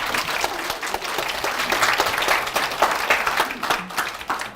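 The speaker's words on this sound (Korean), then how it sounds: "많이 오셨는데 박수 칠 기회를 한번 주시죠." Audience applause fills a hospital staff monthly assembly, steady dense clapping from a sizable crowd sustained throughout at moderate loudness.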